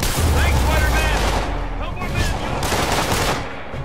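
Molotov cocktails thrown and bursting during a boss fight in Marvel's Spider-Man on PS4, a dense, loud run of crackling blasts and impacts with game effects layered throughout.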